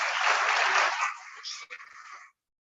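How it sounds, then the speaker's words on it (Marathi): The audience at a national seminar on intellectual property rights applauds a student's rangoli, a brief, full burst of group clapping that thins out and stops after about two seconds. "यांच्यासाठी जोरदार टाळ्या वाजवा."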